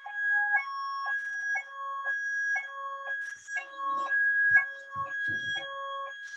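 An alarm sounds in a room, a repeating two-tone electronic beep pattern in steady cycles, loud and close, with a brief spoken voice near the end.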